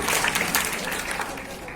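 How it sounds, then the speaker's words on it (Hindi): Loud applause from an audience cheering a politician-style leader's answer at a staged gathering, a dense, steady wash of clapping that runs the whole time with voices mixed in underneath. "जोरदार तालियां हमारे नेताजी के इस जवाब के लिए।"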